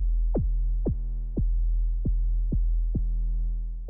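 A synthesized kick knock from a sine oscillator in Vital, its pitch envelope sweeping sharply downward; seven short, evenly spaced thumping hits over a sustained low drone, clean and loud with no voices.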